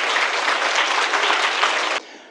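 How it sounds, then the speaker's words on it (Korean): A crowd at a wedding ceremony applauds steadily and loudly for about two seconds after the bride and groom bow, then the clapping cuts off abruptly, leaving faint background noise. "큰 박수 부탁드리겠습니다."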